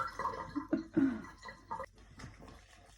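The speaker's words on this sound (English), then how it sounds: "Apologise about my sink, it's making a weird noise." A kitchen sink drain gurgles and bubbles in a few irregular, wet glugs, fairly close and moderately loud.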